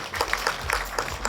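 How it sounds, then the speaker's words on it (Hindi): An audience applauds at a film teaser launch event on stage, a moderately loud spread of scattered claps rising and falling briefly with no talk over it. "प्रोड्यूसर शिव चलाना को, एक बार जोरदार तालियां चाहिए"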